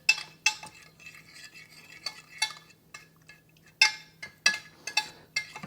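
Juice and spices are mixed for quail kebabs, a spoon clinking and scraping against a bowl in irregular bursts of several strokes, close and clear with quiet gaps between.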